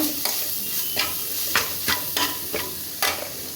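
Pointed gourd seeds stirred in a frying pan over a soft sizzle, with about seven quick scraping strokes in an uneven rhythm, close and clear with no talk.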